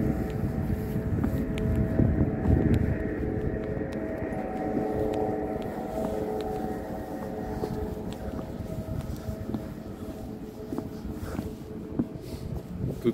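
A low-flying airplane passes overhead at dusk near Coney Island, a steady broad engine roar with wind noise that slowly fades over several seconds, no talk.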